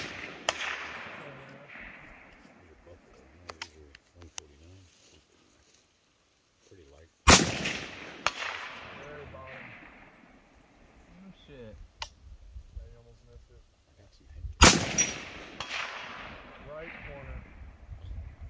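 Rifle shots are fired at a target roughly 240 yards out, with two loud, sharp cracks several seconds apart, each followed by a rolling echo; quiet voices and small handling clicks are heard between shots.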